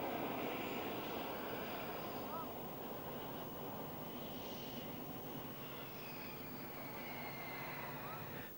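A Snecma Atar turbojet on an RAAF Mirage IIIO delta-wing fighter gives a steady, broad, distant roar that holds at an even level throughout and stays fairly faint.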